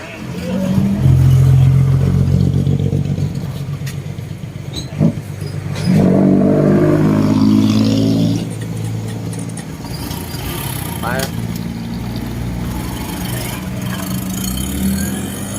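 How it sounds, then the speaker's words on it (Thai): A car out on a test drive after being repaired, its engine running steadily with a low hum, then revving up in a strong surge midway before settling back to a steady drone, with faint voices. "เดี๋ยวมาลองรถก่อน"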